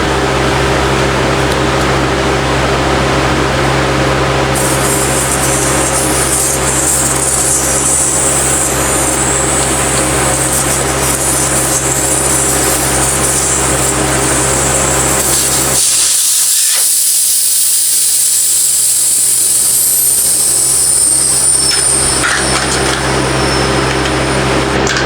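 Sustained loud air hiss escaping from a lawnmower tire with its valve stem pulled, broadband and steady over a low background hum, dropping away briefly near the end before hissing on again.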